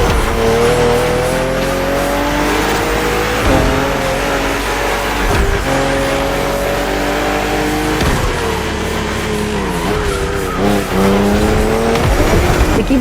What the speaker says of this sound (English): we put you behind the wheel of the fastest production car BMW has ever made, the M4 CSL